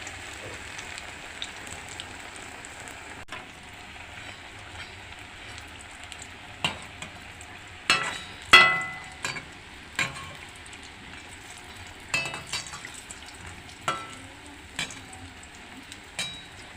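Papad frying in hot oil on a rainy evening, a steady crackling sizzle with sharp pops and clatters now and then as pieces are turned, close and moderately loud with no talk.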